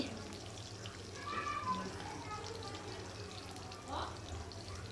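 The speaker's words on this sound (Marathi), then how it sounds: "लसूण हिरव्या मिरच्या अशी फोडणी दिलेली आहे" A tempering of cumin, mustard seeds, green chillies and garlic sizzles in hot oil for a dry mustard-greens dish, giving a steady, moderate crackling hiss with a slightly louder spell near the middle.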